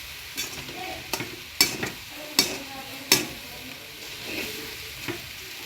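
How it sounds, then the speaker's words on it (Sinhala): Kottu roti being stirred and mixed in a pan at home, with a string of sharp scraping clanks of the utensil against the metal over a low sizzle, fairly close and steady. "දාලා මේක හොඳට කවලම් කරන්න ඕනේ."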